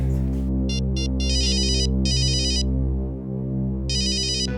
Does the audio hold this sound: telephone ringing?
yes